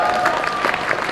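An audience applauds at a Max Brooks panel at Phoenix Comicon, a dense, steady wash of clapping that runs through the whole moment at an even level.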